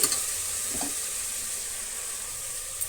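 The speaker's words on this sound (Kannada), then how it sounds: "ಈ ರೀತಿ ಟೊಮೆಟೊ ಈರುಳ್ಳಿ ಫ್ರೈ ಆದಮೇಲೆ ನೋಡಿ" Tomato and onion frying in a pan for paneer biryani, a continuous close hiss and sizzle with a couple of stirring scrapes near the start.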